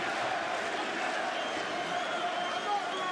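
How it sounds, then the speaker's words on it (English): A Boston arena crowd roars steadily in support of heavyweight champion Stipe Miocic during a UFC title fight against Francis Ngannou, a dense continuous wall of cheering with no pause across the short stretch. "Boston crowd getting behind the champion Stipe Miocic, trying to slay the dragon tonight"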